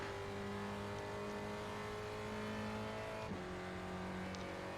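Spec Racer Ford race cars lapping Summit Point in an iRacing sim race, a steady layered engine drone with several cars running close together, constant and fairly loud, with a brief shift in tone near the end.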